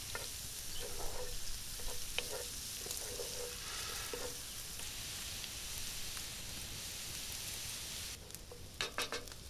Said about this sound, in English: we add some butter, followed by the diced onion and the garlic. We sear them until translucent.